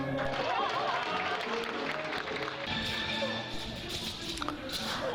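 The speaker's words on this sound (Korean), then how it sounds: "박수 쳐달라고 짱셩이라 외치니 사람들의 박수갈채가 이어집니다." Crowd applauding a Shaolin martial arts performer at a show in Laos, sustained clapping under loud talk and background noise throughout.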